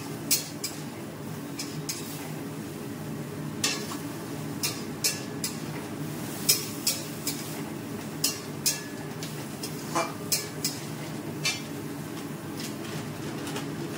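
Food being stir-fried in a pan, with a spatula scraping and clinking against the metal in irregular strokes spread over fourteen seconds under a steady low kitchen hum, close and moderately quiet.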